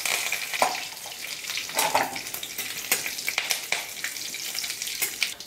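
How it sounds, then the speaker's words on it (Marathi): Mustard seeds, cumin and curry leaves frying in a hot kadai, a steady close sizzle with crackling pops and occasional stirring scrapes. "कढई मस्त गरम झाली, त्याच्यामध्ये थोडेसे मोहरी आणि थोडेसे जिरे फ्राय करून घ्यायचे"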